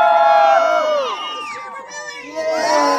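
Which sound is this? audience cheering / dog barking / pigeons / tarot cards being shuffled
audience cheering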